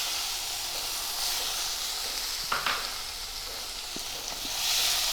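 Tomato and chillies sautéing in a pan for dal, a continuous hissing sizzle with a few sharp scraping stir clicks midway, close and steady.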